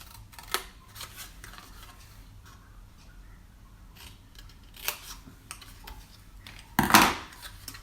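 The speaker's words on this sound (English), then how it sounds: "I'm just going to cut the 4 boxes that are in the left and right hand corner away" Scissors snipping corners off cardstock for a Stampin' Up ladybug Post-it note holder, a few quiet separate cuts and handling rustles, with one louder, sharper snip near the end.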